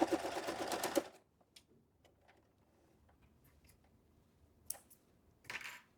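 Sewing machine stitching a kebaya kelepet, a brief close burst of rapid mechanical needle chatter, then quiet with scattered soft clicks and a couple of short fabric-handling noises.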